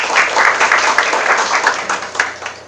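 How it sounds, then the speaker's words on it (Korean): An audience at a startup demo day in Cheongju gives steady, dense applause before a company pitch, as loud, continuous clapping fills the short moment with a few sharper claps standing out. "박수 부탁드립니다."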